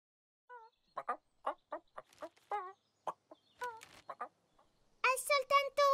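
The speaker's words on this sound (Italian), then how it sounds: "È soltanto una gallina." A hen clucks in short, separate bursts, irregular and close by, ending in a louder flurry of rapid clucks; a voice may join in briefly.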